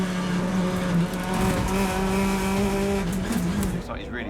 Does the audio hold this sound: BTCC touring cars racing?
yes